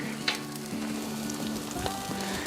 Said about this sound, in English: Hash browns in there.